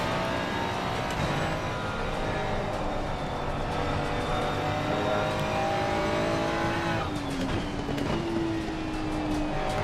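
A Ferrari GT race car in Assetto Corsa Competizione at Watkins Glen drones steadily at high revs for the whole stretch, with a shift in engine pitch late on and no talk over the loud, continuous sound.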